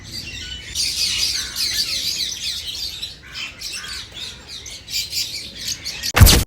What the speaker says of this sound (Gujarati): બધે બધા પોપટ જ છે મિત્રો, તમે જોઈ શકો.